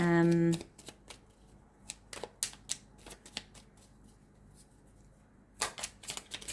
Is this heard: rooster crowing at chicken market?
no